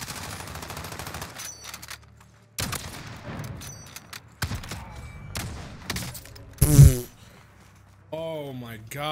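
Gunfire in the video game Modern Warfare, sharp loud shots and short bursts spaced across the clip with game effects between them, and a person talking over parts of it.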